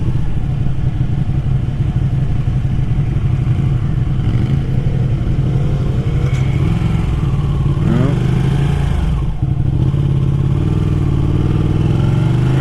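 Ducati Panigale 959 sport motorcycle ridden on the road, its engine droning loud and close with a rising rev and a quick-shifter upshift without lifting the throttle, under rider talk and wind.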